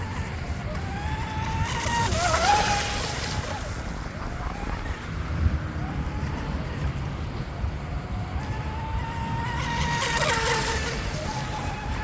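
A DIY M500 Mini Mono RC boat runs across the water, its small motor whining up and down in two loud passes as it speeds and corners, with wind noise and a voice talking in between.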